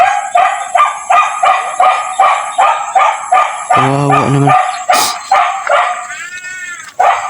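A dog barks in a rapid, evenly spaced series of high yips close by, breaking into whining whimpers toward the end, while a person briefly speaks.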